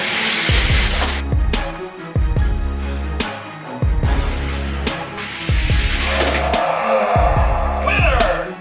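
Hot Wheels Lamborghini toy cars, including an Aventador J, racing down a plastic track, a rapid series of sharp clacks and rattling rolls, close and loud, with a voice briefly talking.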